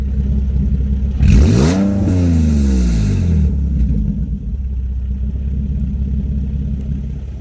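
Infiniti G37 coupe with exhaust cutouts open, its engine blipped in one sharp rev that rises and falls over about two seconds before settling back to a loud, rumbling idle, heard from outside the car.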